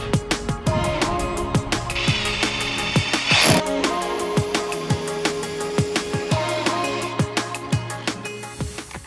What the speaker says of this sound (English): So let's get drilling.